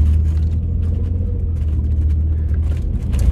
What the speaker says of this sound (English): those of us that listen to our engines would hear that and not be happy that it's clattering like that